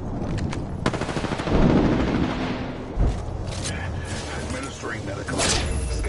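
Apex Legends gameplay with rapid automatic gunfire and scattered shots layered over game sound effects and mechanical clanks, dense and continuous, with in-game voice lines mixed in.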